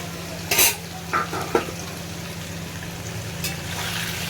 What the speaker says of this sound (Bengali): পনিরটাকে আগে ভেজে তুলে নিই